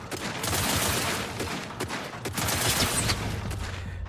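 Sustained gunfire from The Outer Worlds 2 video game, with rapid repeated shots in dense bursts that are loud and close, continuing almost without pause, with no talking.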